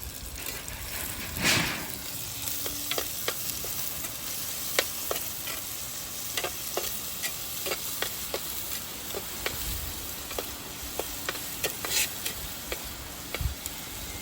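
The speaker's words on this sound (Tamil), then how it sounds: "இதோடு சேர்த்து நாம் வீட்டு வச்ச இஞ்சி பூண்டு போட்டுவோம்" Ginger garlic paste sautéing in a hot pan, a steady close sizzle broken by frequent sharp clicks and scrapes of stirring, with a louder burst near the start.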